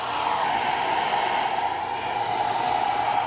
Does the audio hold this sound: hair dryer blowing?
yes